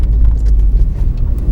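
A car climbs a very steep, heavily salted hill in snow in Vernon, heard as a steady low engine and road rumble from inside, close and loud with no talk.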